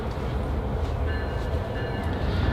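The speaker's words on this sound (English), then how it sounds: "I'll clean up the surface of the soil while I'm waiting for that train to go by. It's kind of noisy" A train passes nearby in a continuous loud rumbling roar with faint rail squeal and rattle, steady throughout.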